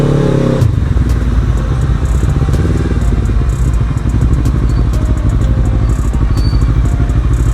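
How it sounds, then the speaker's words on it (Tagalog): Busy road traffic with motorcycles and cars, dense continuous engine rumble and passing revs close by, loud and steady with clattering undertones throughout. "Yun o, traffic."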